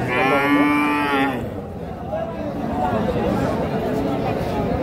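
A cow gives a long, loud moo up close at a cattle market in Bogura, Bangladesh, then crowd chatter and murmuring voices carry on steadily around it.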